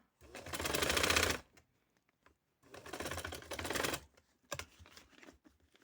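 Home sewing machine stitching a decorative sleeve neck design, running in two fast rattling bursts of about a second each with quiet gaps and small clicks between, fairly faint.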